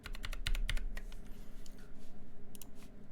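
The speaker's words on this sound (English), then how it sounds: "this is a typing test for Duck Lightsaver V3 with Kailh novel keys creams, lubed with 205G0" Rapid typing on a Duck Lightsaver V3 mechanical keyboard fitted with lubed Kailh NovelKeys Cream switches, close and crisp, a quick burst of keystrokes that thins out, then a brief final flurry.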